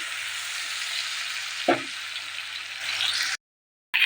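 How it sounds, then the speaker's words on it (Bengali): Onion and cumin sizzle steadily in hot oil in a pan, a continuous close frying hiss with one brief clatter midway, before the sound cuts out to silence near the end. "পেঁয়াজটা লাল লাল হয়ে গেলে তারপরে আলুটা তুলে দেবো।"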